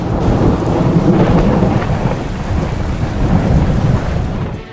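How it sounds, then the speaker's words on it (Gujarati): Heavy downpour in North Gujarat with a deep rolling rumble of thunder, a dense continuous roar of rain on surfaces, loud and close, easing slightly at the end. "ઉત્તર ગુજરાતમાં સવારથી મેઘરાજા અનરાધાર વરસી રહ્યા છે"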